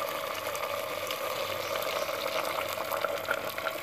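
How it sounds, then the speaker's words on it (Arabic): Very hot water is poured into a small pot over fried vegetables and chicken, making a steady, soft rushing hiss with bubbling crackle that carries on evenly for a few seconds at low volume. "راح نمرقه بماء سخون جدا"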